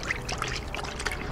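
Warm water pours into a bucket to make soapy water for washing a car, a short, continuous splashing gush heard up close.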